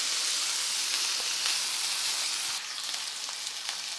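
Small minced beef steaks fry in a pan with a steady, dense sizzle that holds close and even throughout, easing slightly softer near the end, with no talking.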